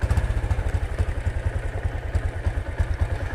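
A Supra X 125 motorcycle with a full-standard manual-clutch setup idles close by, its engine thumping in a steady, rapid low pulse through a dry, thin exhaust with no deep bass.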